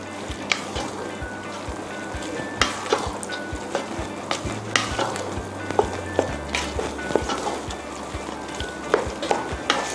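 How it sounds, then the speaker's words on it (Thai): Sticky rice stirred with coconut milk in a pot, a spatula scraping and knocking against the pot in a steady rhythm over soft, wet bubbling, close but fairly quiet. "กวนข้าวกับน้ำกะทินะคะ"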